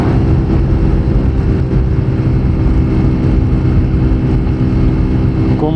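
A TVS Apache 200 Fi ABS motorcycle pulls uphill with a constant loud engine drone and wind buffeting, steady throughout, ending with a short rise in revs.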